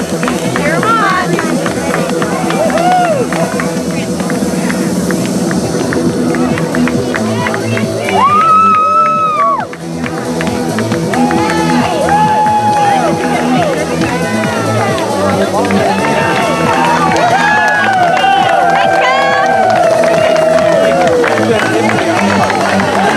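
Outdoor crowd at the York Days 5k in York, Maine, with loud speech-heavy babble, scattered shouts and some clapping as kids run past on a second lap, voices close and continuous throughout.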